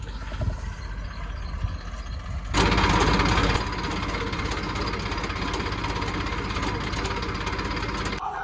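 A tractor engine runs steadily in a village, a low continuous rumble with a knocking idle texture that grows louder and rougher partway through before settling into a constant drone.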